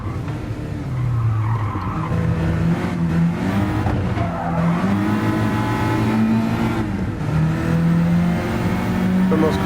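Citroen DS3 engine in Gran Turismo Sport, held at full throttle through a turn, its loud racing note rising and dipping with gear changes, joined by tyre squeal and skidding; no voices over it.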